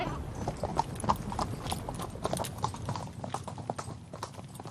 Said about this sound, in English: the horses raised in Xinjiang are considered the finest in all of China